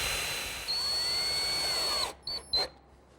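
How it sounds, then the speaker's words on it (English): A power driver whirs steadily as it drives screws into a table hub on the underside of a pedestal table top, a long continuous run followed by two short bursts, close and loud. "Just center it, and I'll install 4 screws."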